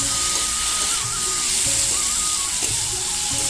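Soybean chunks sizzle steadily in a pan with spices as they are fried and stirred for a soybean curry, a continuous close frying hiss with faint stirring scrapes throughout.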